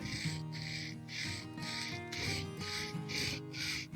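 A carving knife is sharpened with steady back-and-forth grinding strokes, about nine even, scraping passes in a regular rhythm, close and moderately loud, with no talking.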